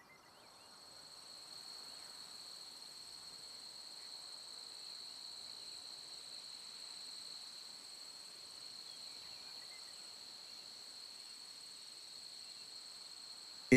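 Insects in Yellowstone National Park make a steady, high, faint buzzing drone that holds unbroken for many seconds in an otherwise quiet outdoor setting.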